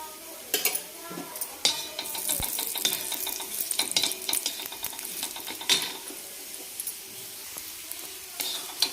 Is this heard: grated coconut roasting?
yes